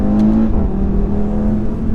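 An Audi RS3 pulls hard at full throttle, its engine note droning steadily and loudly up close with a rising tone, no talk over it.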